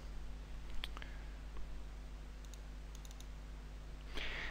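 A few quiet, scattered clicks of a computer keyboard being typed on, faint under a steady electrical hum, with a slightly louder burst of clicks near the end.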